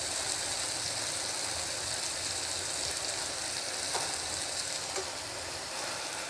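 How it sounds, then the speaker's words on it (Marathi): Butter chicken fries in oil in a pan while a spoon turns it, giving a steady, even sizzle that holds at a moderate level throughout, with no voices. "त्याला थोडंसं फ्राय करून घ्यायचं आहे खालीवर करून छानपैकी."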